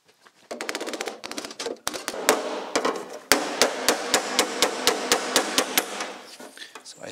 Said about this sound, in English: So now I'm about to bend the top part of the seat.